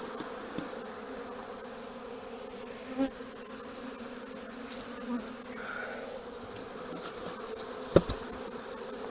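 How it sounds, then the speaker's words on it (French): Honey bees robbing an open hive feeder while several colonies are being combined before winter: a steady, dense buzzing swarm hum that holds throughout at moderate level, with a few faint clicks and one sharp tap near the end. "Les abeilles ont déjà commencé à piller."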